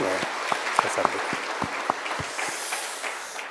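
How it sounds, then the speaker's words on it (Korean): Congregation applauding in a church, a broad wash of clapping with a few sharper individual claps standing out, steady for several seconds before thinning slightly toward the end. "우리 하나님께 영광의 박수를 한번 올리겠습니다."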